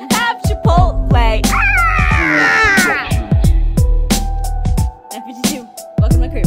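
Several cats meow again and again, loud and close, in a quick run of drawn-out, wavering calls with brief gaps between them.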